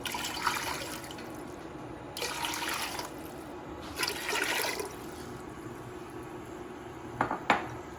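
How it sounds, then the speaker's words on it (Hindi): Water pours from a tap into a metal pot in several separate runs for chicken soup on the stove, with clinks of the pot and a sharp clatter near the end, heard up close. "स्टोव ऑन कर दिया मैंने, और इसमें पानी जा रहा है"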